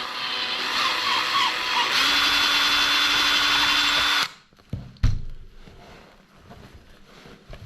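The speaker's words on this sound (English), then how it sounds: "So we need to drill through the 4 holes and then place the rubber parts in." A power drill whines steadily for about four seconds while drilling holes in a plastic motorcycle windscreen on a Honda CBR600RR, then stops abruptly, followed by a couple of knocks and quiet handling sounds.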